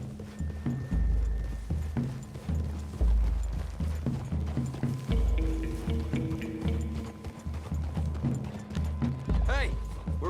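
Horses' hooves clip-clop in a steady walking rhythm in the video game Red Dead Redemption 2, close and clear over low background tones.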